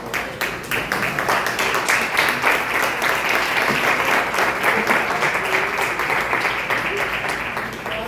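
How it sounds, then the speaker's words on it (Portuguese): A church congregation at an evening prayer service bursts into steady, dense applause that holds at full strength for several seconds, with a few voices mixed into the clapping. "aplaudindo o nome do Senhor"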